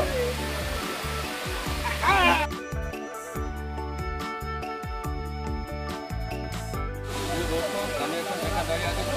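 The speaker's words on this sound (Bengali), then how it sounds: "এ দেখেন কত সুন্দর ঝর্ণা, ঝর্ণাতে মানুষ গোসল করতেছে।" Hum Hum waterfall near Sreemangal, with people bathing in it, gives a steady broad rush of falling water throughout. A tonal, music-like layer sits over the water in the middle, and faint voices may be present.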